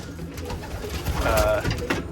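Long-distance racing pigeons coo softly nearby in a breeding loft, a few low, rolling calls, with faint rustling and background movement.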